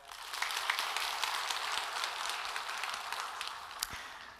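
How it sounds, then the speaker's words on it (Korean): A church audience at a Bible lecture gives a soft, steady round of clapping that sounds fairly distant and thin, holding evenly before easing off near the end. "박수 한번 칠까요?"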